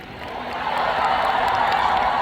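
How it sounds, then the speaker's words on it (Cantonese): Applause and light cheering from the audience at a live concert in 2025 swell up and hold steady, a dense continuous wash of clapping heard from within the crowd. "俾掌聲，好兄弟！"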